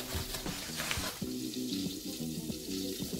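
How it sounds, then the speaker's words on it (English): Flour is whisked into melted butter in a pan, two tablespoons at a time, giving a steady close-up scraping and faint sizzle that runs for the whole moment. "And then you whisk that bad boy in."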